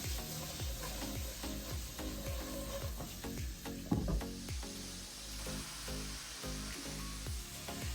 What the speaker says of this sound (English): we're gonna cook these onions until they're nice and soft